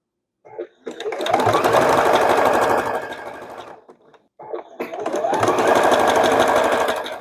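Domestic sewing machine stitching around a curved machine-embroidery quilt block, running in two steady bursts of rapid needle chatter with a short pause between them, loud and close with no talk.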